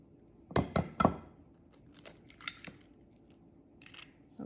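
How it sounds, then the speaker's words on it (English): Eggs are cracked into a bowl with a quick run of three sharp shell cracks, followed by softer taps, clinks and a wet drop before a last faint crack, all close and clear with no talk. "cracking my eggs"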